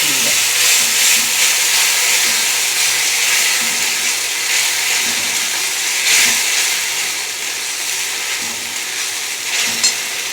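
A paste of garlic, tomato and onion fries in a pan with a loud, steady sizzle and hiss, broken by occasional scraping stirs, with no talk.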